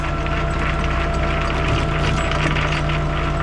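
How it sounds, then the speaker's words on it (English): A rollback flatbed tow truck winch runs with a loud, steady mechanical drone and a ratcheting whir that holds constant from start to finish. "The winch is doing weird stuff because"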